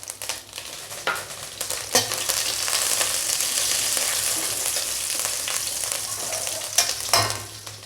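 Dried red chillies and curry leaves fry in hot oil, a dense crackling sizzle that swells after the first seconds and holds steady, punctuated by occasional sharp spatters and utensil taps; no voices.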